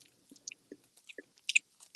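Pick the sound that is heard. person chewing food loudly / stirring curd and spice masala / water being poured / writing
person chewing food loudly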